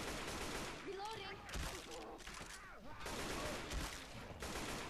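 Gunfire in Left 4 Dead 2 during a No Mercy match, with continuous crackling shots mixed with game noise and voices talking over it.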